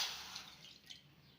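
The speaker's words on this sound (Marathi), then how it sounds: "मध्ये पाणी टाकून घेऊया." Water pours into a pan to make sugar syrup for sakharechi gathi, a faint continuous trickle and splash with no talk, fading slightly toward the end.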